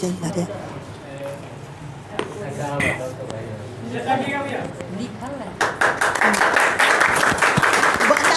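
An audience claps at a prize distribution for a free open test. Someone talks at first, then a loud burst of many hands clapping rises and continues steadily to the end.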